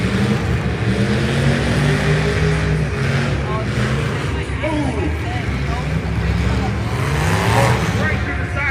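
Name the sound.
demolition derby cars revving and crashing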